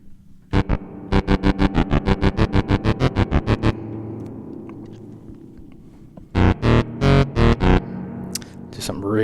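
A Moog Grandmother analog synthesizer plays back a recorded sequence: loud, distorted, rapid repeating notes in a steady run, a pause with a droning tone, then a second burst of heavier staccato notes.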